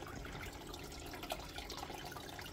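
Water spreads in a thin, even sheet across a flat Miller table, its flow smoothed by a reversed offcut of mat, giving a steady, soft, continuous wash with no talking.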